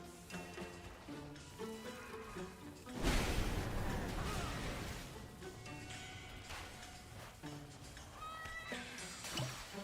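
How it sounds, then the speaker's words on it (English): A cat meowing in World of Warcraft, with several drawn-out meows mixed among game sounds and a loud whooshing crash midway, while a voice talks over parts of it. "Where did that cat come from?"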